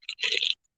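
Potato chips crunch close up in a few quick bursts, one longer crackling bite between short snaps, with silence in the gaps.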